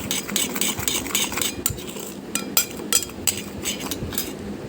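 A spoon mixes bhaji ingredients in a bowl, giving close, irregular clinks and scraping taps against the bowl over a soft background hum.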